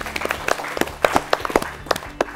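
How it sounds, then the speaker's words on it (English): An audience at a school quiz competition claps for the competing school teams, a scattered, uneven burst of individual hand claps heard close, with gaps between the sharper slaps. "Let's clap for them as well."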